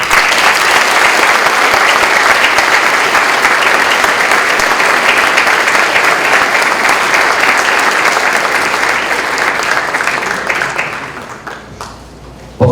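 Loud, sustained applause from an audience in a university lecture hall during a keynote lecture, dense clapping that runs unbroken for about ten seconds before thinning and fading out.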